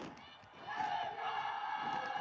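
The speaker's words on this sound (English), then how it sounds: "The crowd has been involved right throughout this fixture." Crowd noise at a Nepal vs India women's football match rises into a louder, steady roar after a brief lull, with a commentator's voice over it.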